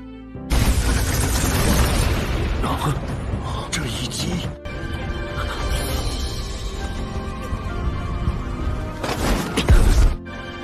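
A loud, sustained animated blast roars with heavy rumbling and crackling debris, fading slightly before another booming surge near the end; talk runs underneath.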